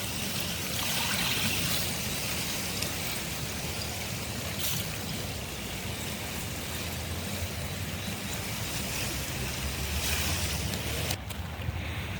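Steady lapping and sloshing water of waves against ice fills the scene, a continuous wash with small splashes and trickles, close by and without voices.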